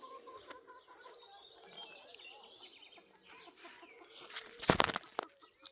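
Birds in a garden in the evening, with chicken clucks and bird calls scattered at moderate distance, ending in a louder close burst of noise.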